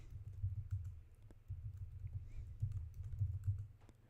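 A passphrase being typed on a computer keyboard produces soft, quiet keystrokes in uneven bursts, with no talking.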